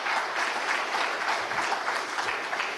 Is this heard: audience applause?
yes